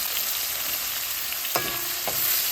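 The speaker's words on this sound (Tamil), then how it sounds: "கருவேப்பிலை எல்லாம் போட்டாச்சு, வதங்கட்டும்" Curry leaves sautéing in an oiled pan give a steady, close frying sizzle, joined near the middle by a couple of brief scraping stirs, with no talking.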